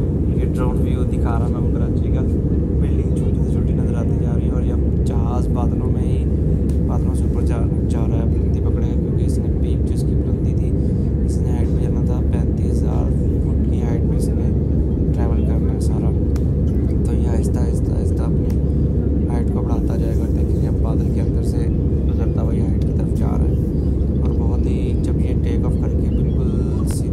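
Steady, loud airplane cabin drone on a flight from Karachi to Islamabad as the aircraft climbs into clouds, a continuous low rumble with faint talking heard over it.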